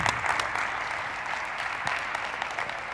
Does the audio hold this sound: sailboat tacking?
no